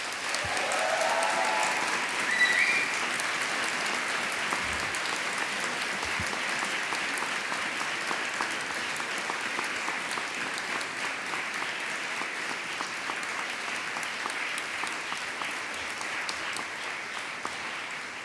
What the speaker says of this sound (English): can we give a round of applause to the family and friends and loved ones